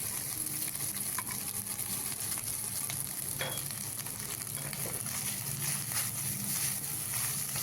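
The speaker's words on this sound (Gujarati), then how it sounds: "ડુંગળી લસણ અને લીલા મરચાં ખાલી થોડા ઘણા ફ્રાય થઈ રહે" Chopped onion, garlic and green chillies sizzle in oil in a pot, a steady close hiss with scattered crackles and faint scraping from stirring.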